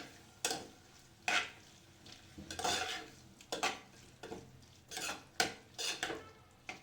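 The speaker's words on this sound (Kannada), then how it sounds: "ಟೊಮೆಟೊ ಎಣ್ಣೆಯಲ್ಲಿ ಚೆನ್ನಾಗಿ ಸ್ಮ್ಯಾಶ್ ಆಗಬೇಕು, ಅಲ್ಲಿವರೆಗೂ ಫ್ರೈ ಮಾಡ್ಕೊಳ್ಳಿ." Tomatoes stirred in oil in a pan for soya chunks pulav, a spoon knocking and scraping against the pan in irregular bursts, with a soft frying hiss underneath and no voices.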